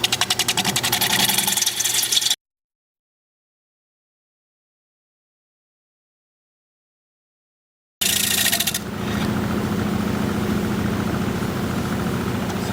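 A 5/8 inch bowl gouge cuts the inside of a natural-edge wooden bowl spinning on a lathe, giving a close, steady rough hiss and rumble that breaks off into silence for several seconds and then resumes.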